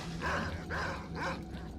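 A dog in the S.T.A.L.K.E.R. video game barks three times in a steady rhythm, close and clear over a low ambient hum.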